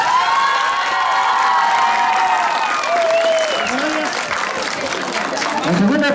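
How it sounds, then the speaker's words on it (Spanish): A crowd at a huapango dance contest during a San Juan Amajaque fair applauds loudly and continuously, mixed with cheers and shouting voices. "le voy a dar un fuerte aplauso a la pareja del Guía y al Gaúl"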